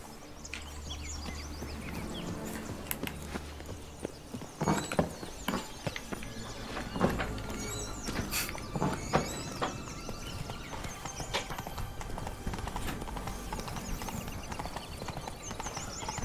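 Horse hooves clip-clop in the video game The Witcher 3, a run of close, fairly loud hoofbeats landing in an uneven rhythm over a steady background bed, with no talk.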